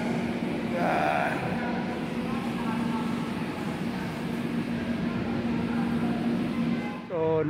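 A light rail train rumbles loudly through a Manila LRT station, with a steady low hum and broadband roar, a brief higher squeal early on and a rising whine near the end.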